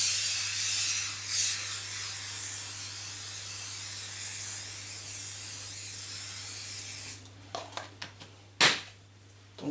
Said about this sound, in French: on va venir graisser notre moule